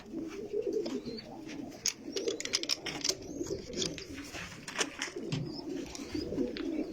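Pigeons in a Samawah rooftop loft, birds with chicks, coo softly and repeatedly at close range, a continuous low burble with occasional sharper clicks and rustles.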